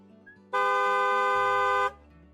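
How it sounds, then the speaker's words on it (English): A single car horn blares in one long steady honk of about a second and a half, loud and close, with no talk during it. "Honk."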